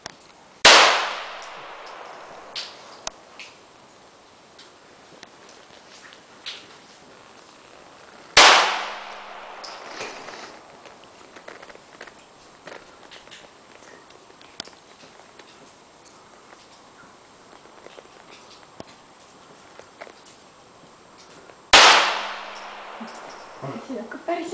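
Three loud, sharp gunshots ring out at an indoor shooting range, spaced several seconds apart, each followed by a short reverberant decay, with quiet talk and small handling noises between the shots.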